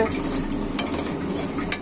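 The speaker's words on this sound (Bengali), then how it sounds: "এমন করে মাঝে মাঝে ভেজিটেবলস ভেজে নেবেন" Mixed vegetables fry and are stirred in a pan: a steady, close sizzle runs throughout, with a few brief scrapes from the stirring utensil.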